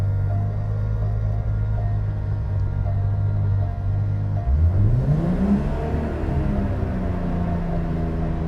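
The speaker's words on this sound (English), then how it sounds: "I'm going to start off in first gear and go through all the gears here, and this is a 6-speed, so we're going to go through all 6 gears" A turbocharged BMW M3 with a six-speed gearbox pulls hard, its engine droning loudly at steady revs before climbing in a rising sweep as it accelerates, a close, continuous rumble with no talk.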